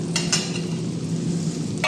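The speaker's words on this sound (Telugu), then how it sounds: "నేనైతే తిరగవాత పెట్టి తిరగవాతలో బెండకాయలు వేసి వేయించుతున్నా" Okra frying in a small tempering pan, a steady close sizzle with a couple of brief utensil clicks.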